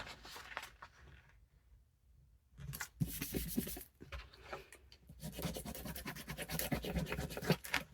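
Scissors cut through envelope paper near the flap crease, close rasping snips and scratchy paper rubbing in uneven bursts with a brief quiet pause early on.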